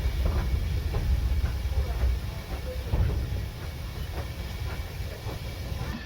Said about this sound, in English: the train passes under the road bridge for the yard